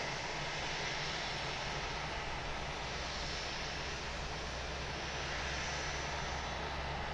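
Airbus A321 engines in a flight simulator, a steady, loud, unbroken roar with a deep low rumble and a broad airy hiss, constant throughout with no talk.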